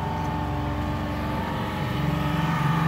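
A boat engine runs on Chesapeake Bay, a steady throbbing motor drone with a rhythmic low pulse that grows a little louder and rougher toward the end, close by with no talking.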